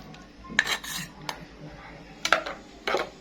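A spoon scrapes and clinks against a clay tagine dish while tomato sauce is scooped in, giving a few quiet, separate metallic taps and scrapes with pauses between them.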